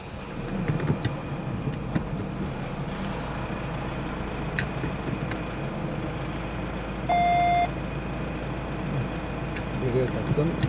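Electronic parking sensor on a Nissan Navara's metal rear bumper sounds a steady high-pitched beep, then a faster continuous tone as the truck nears an obstacle, heard over idling engine noise while someone talks.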